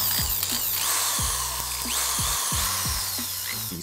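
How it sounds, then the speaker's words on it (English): A power drill bores a hole in a smoked motorcycle windscreen on a Z125 Pro, whining in short repeated bursts with brief stops between them, close and loud with no talk. "I'm going to use a bigger thing and just drill it bigger"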